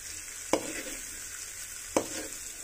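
Masala frying in oil for mutton curry, a faint steady sizzle with two sharp spatula taps against the pan, close and quiet.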